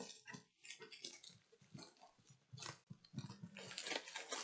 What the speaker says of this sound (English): If you hear my puppy in the background, he's in a mood today.